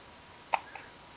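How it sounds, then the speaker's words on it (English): A single small, sharp hiccup from a seven-week-old baby, close and quiet, followed by a fainter second catch in a calm, still room. "You got the hiccups."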